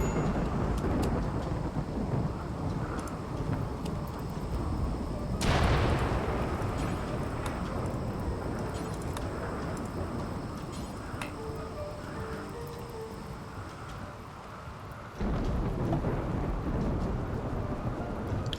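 Thunder from flash storms rolls through the colony in the RimWorld video game, a long sustained rumble over a dense rain-like wash with a sharp loud crack partway through, then the roar drops and swells again.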